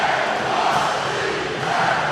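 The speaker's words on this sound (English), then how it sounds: "just listen to this crowd" A packed arena crowd roars steadily at a Cincinnati versus Louisville NCAA men's basketball game, a loud, continuous wall of cheering with no break.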